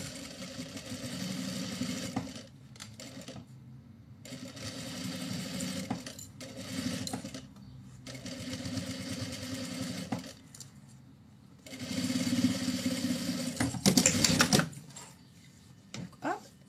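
A sewing machine stitches a 1 cm seam through the lining of a Kitty pouch, humming in several separate bursts of a few seconds each with short silent pauses between runs, the last burst loudest.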